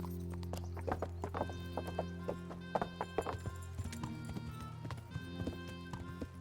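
Horse hooves clip-clop in Kingdom Come: Deliverance in a steady, uneven rhythm over a constant low hum and sustained background tones.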